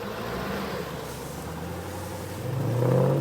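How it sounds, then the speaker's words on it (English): A vehicle given gas in mud with its front wheels spinning, a steady engine drone that swells and revs louder toward the end, heard alone without talk. "You're going to be giving it enough gas to spin these front wheels."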